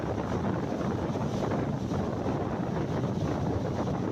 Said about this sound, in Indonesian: Ketinggian ombak mencapai 1 meter lebih yang membuat suara deburan cukup keras.